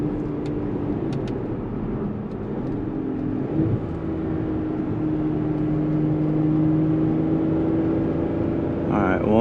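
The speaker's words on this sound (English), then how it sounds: "That V12 is glorious." Porsche engine revving through a downshift inside the car, a steady droning hum that swells slightly before a quick rising rev at the end, heard from the cabin.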